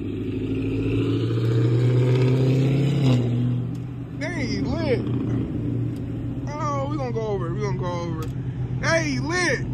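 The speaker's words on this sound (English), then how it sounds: "Look at that fast ass Camaro, man." A Camaro surges past with a loud roar of acceleration that peaks and fades within the first few seconds, followed by excited voices talking over the road noise.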